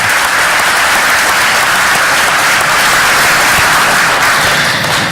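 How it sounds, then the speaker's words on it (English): A crowd at a school board meeting applauds teachers at the 2018 Teacher of the Year Awards, a loud, sustained roar of clapping that holds evenly from start to finish. "Please give all our teachers a round of applause."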